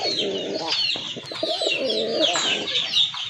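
Large pigeons coo and burble constantly, with low throaty rolling calls stacked over one another near at hand, while faint scratchy background chatter and clucking run underneath.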